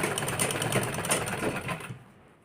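A sewing machine stitches a blouse in one continuous fast run of needle clatter. It stops near the end, leaving a quiet tail.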